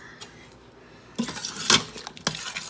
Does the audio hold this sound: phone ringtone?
no